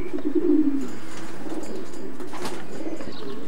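Racing pigeons coo softly in a loft, low murmuring calls near the start and scattered quieter coos and rustles afterwards.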